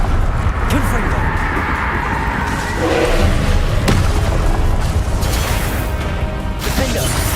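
A Confringo blasting spell from Hogwarts Legacy erupts in a loud, booming explosion with a rumbling roar, amid dense game noise and a voice.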